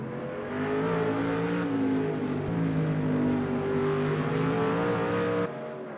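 A GT1 race car in a sim racing game at Imola approaching the final lap, engine droning loudly and steadily at high revs with slight pitch shifts, then cutting off near the end.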